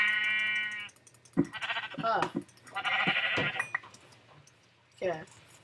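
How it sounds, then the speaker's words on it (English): Sheep bleat in a Minecraft FTB modpack, several wavering calls rising out of quiet game ambience, with a brief spoken exclamation partway through. "Let's kill these sheep for some."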